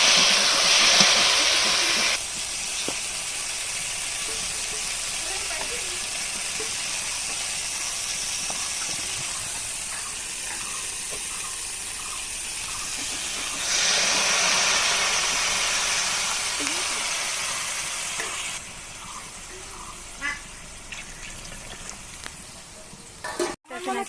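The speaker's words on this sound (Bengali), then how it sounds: "দেখো এবার তরকারির ঝোলটা একটু ফুটে নিক" A curry broth with tender young pumpkin, green chili and cumin paste boils in a pan, giving a steady, close bubbling hiss with a brighter steamy surge partway through.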